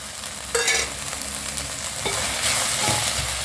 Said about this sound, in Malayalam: അതിൻ്റെ പച്ചമണം മാറുന്നിടം വരെ കുറച്ച് സമയം കൂടെ നമുക്കൊന്ന് ഇളക്കി കൊടുക്കാം